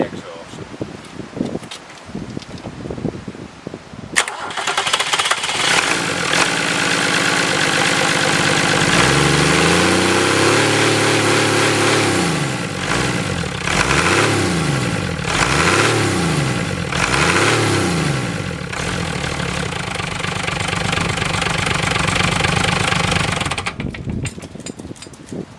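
A Nuffield tractor engine cranks and catches, then runs loudly and steadily, revving up and down in a repeating rhythm before cutting out near the end.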